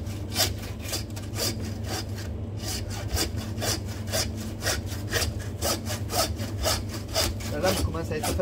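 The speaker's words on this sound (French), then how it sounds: "Maintenant, la scie, comme j'ai dit, on en a besoin." A hand saw cuts through a veal bone in steady back-and-forth strokes, a close, rasping rhythm that runs throughout with no talk.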